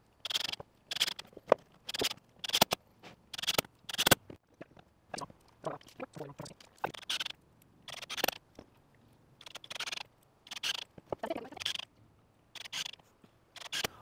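Staples are fired one after another into sustainable decking boards to fix a compost bin panel, a run of sharp, irregular snaps close up with short pauses between them.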